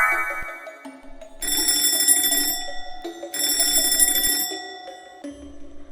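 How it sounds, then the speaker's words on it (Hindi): An alarm clock rings beside a sleeping young man in an animated story, bright electronic bursts sounding in two long clear rounds with short pauses, loud and close over soft background music. "अलार्म बजने पर रजत की आंख खुल जाती है"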